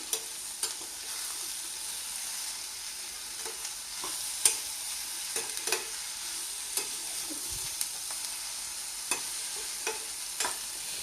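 Boiled, peeled raw cashews stirred into Andhra-style mango curry in a pan, with a faint steady sizzle and scattered light scrapes and taps of the spoon, quiet and close.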